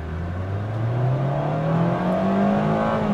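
A 2023 Mazda MX-5 Miata RF GT accelerating hard, its engine note climbing steadily in pitch as revs build, loud and close from inside the car, with no talk.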